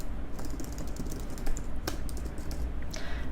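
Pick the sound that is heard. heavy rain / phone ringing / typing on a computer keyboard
typing on a computer keyboard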